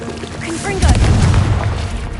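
A Confringo explosive spell cast in the video game Hogwarts Legacy lands as a loud, close boom with a crashing burst that rumbles for about a second. A voice is heard just before it.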